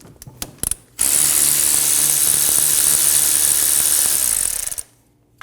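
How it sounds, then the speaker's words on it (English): A ratchet wrench with a 14mm socket turns out a brake line bolt on a 2008-2015 Scion xB, a steady rapid clicking that runs continuously for several seconds up close, preceded by a few brief metallic taps. "Using a 14mm socket, remove the bolt for the brake line."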